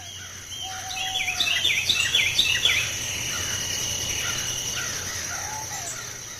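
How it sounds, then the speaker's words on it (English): Birds chirp and crows caw in a mangrove forest at Bhitarkanika, India. Bright trilling calls cluster early, then sparser calls follow over a steady insect-like drone and a low background hum, with no human voices. "the never-ending chirping of the birds is in itself a catharsis of a much-needed connection from nature"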